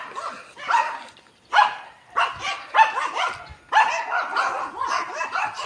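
A Japanese Spitz mix dog barks close and loud in a quick series of sharp yips and barks with short gaps between them. No one speaks over the barking.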